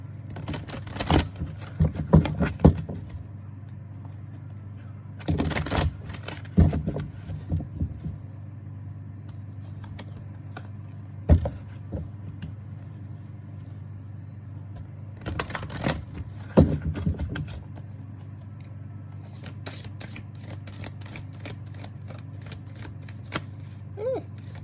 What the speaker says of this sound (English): These are hard to shuffle because they're so big.